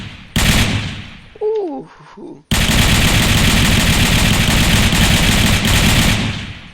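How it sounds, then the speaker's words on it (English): A gun with an ACOG scope firing in the video game Unturned: a short burst, then a long, loud, unbroken stream of rapid automatic fire, with a brief exclamation from a player in between. "So here is the gun. Looks pretty nice, actually. I kind of like that. And it comes with an ACOG already on it. Let's go ahead and shoot it."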